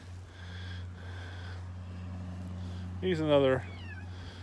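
A domestic cat meows close by in a single rising, strained call near the end, while a person talks over a steady low hum beforehand.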